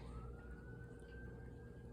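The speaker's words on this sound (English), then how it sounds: "as sirens go off in the background as warning" A faint emergency siren wails far off, one thin rising tone that carries through under a dull low background rumble, with no voices.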